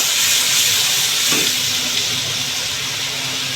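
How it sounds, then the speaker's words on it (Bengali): Water is poured into a pan of frying spices for a prawn curry, a loud rushing splash over hissing sizzle and steam that settles into a steady bubbling fry. "পানি দেওয়া হচ্ছে যাতে পুড়ে না যায়"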